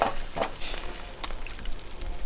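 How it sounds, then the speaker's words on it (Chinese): Roasted lamb spine sizzles with rendering fat, a steady close crackle and hiss with scattered sharp pops throughout, no talking over it. "这滋滋冒油味儿"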